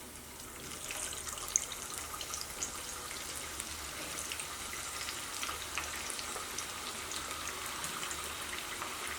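Jackfruit pieces fry in hot oil for Kerala-style chips, giving a faint, continuous bubbling hiss with scattered small pops, heard quietly and without voices.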